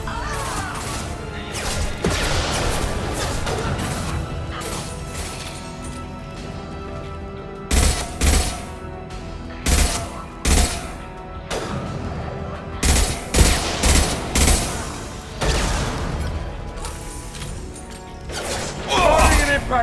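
Gunfire and sniper shots crack in a Mass Effect 2 firefight, with loud sharp bursts in clusters and single heavy reports over background combat noise, while character voices call out between shots.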